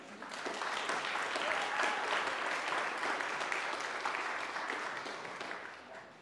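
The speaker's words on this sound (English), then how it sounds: "another round of applause for them" Audience applause for performers at a new music festival concert, a sustained, even burst of clapping from a seated crowd that swells early and tapers off at the end.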